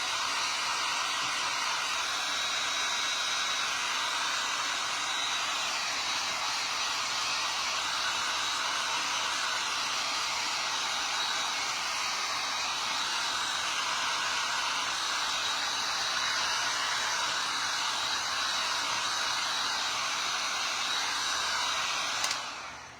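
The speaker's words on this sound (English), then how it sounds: "So we're gonna dry this quick and then sand it a little bit." Heat tool or hair-dryer-style blower drying a painted wood door hanger, a loud steady airy whoosh with a thin high whine held for over twenty seconds before cutting off, no talking.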